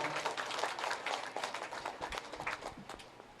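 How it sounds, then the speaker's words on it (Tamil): Applause rolls through a congregation at a festival Mass of the annual chariot feast at a Divine Mercy church in Nagamangalam, a dense, steady patter of many hands at moderate level lasting the whole stretch without a break. "கரகோஷம் எழுப்பி ஒருவரை வாழ்த்துவோம்"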